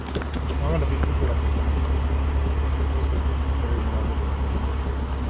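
A Lexus RC F fitted with titanium Lexon exclusive mufflers rumbles steadily at close range, a deep continuous exhaust drone holding at an even level throughout, with voices faintly present.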